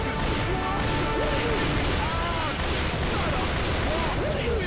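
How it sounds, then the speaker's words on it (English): Sniper rifle fire in the zombie shooter game Left 4 Dead 2: loud repeated gunshots and impacts crack through a dense, noisy battle din of game sounds, with a voice briefly heard amid the action. "Sniper gun."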